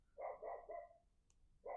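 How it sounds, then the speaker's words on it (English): A dog barks in a quick run of three close, fairly loud barks, followed by a short pause and then a fourth bark starting, with no talking over it. "The dog is barking, and I'm annoyed by it."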